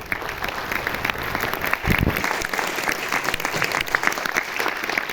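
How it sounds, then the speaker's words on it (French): Steady audience applause in a cinema theatre at a film screening, a dense wash of many hands clapping at once, holding at an even level throughout. "Voilà, on peut l'applaudir."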